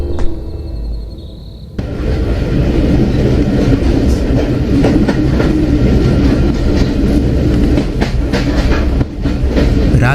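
A passenger train on an overnight rail journey rolls steadily along the tracks. After a quiet opening, a loud, continuous rumble with rhythmic clickety-clack of wheels over rail joints cuts in suddenly and carries on to the end.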